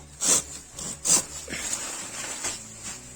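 A 33 cm garden pruning saw rasps back and forth through wood, close up, with a few strong strokes at the start followed by softer, quicker scraping cuts.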